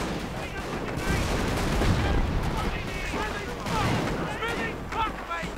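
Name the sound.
heavy machine gun fire in a video game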